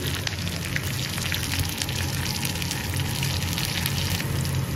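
Steady, dense sizzling and crackling of garlic frying in hot oil, continuous and close throughout.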